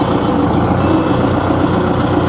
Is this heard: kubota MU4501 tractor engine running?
yes